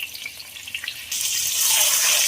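Eggs dropped into hot oil in a wok, first light crackling, then a loud steady sizzle that swells and holds.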